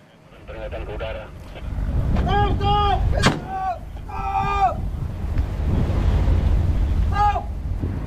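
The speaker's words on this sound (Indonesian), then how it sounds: "Tembakan peringatan mewarnai penangkapan ini." Loud sharp warning gunshots crack over a steady engine rumble of a patrol boat chasing a Vietnamese fishing boat in the Natuna Sea, with several bursts spread across the clip and voices calling out.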